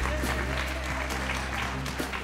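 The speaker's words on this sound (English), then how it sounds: "Let's have a big round of applause for all our candidates" Applause from an audience for a row of political candidates at a Republican party event, a steady wash of clapping with a low hum and some murmur underneath throughout.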